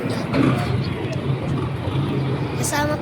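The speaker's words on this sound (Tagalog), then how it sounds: "Ang daming sasakyan guys." Busy road traffic with many vehicles passing near a street crossing, a constant engine and tyre rumble running under a person talking close by.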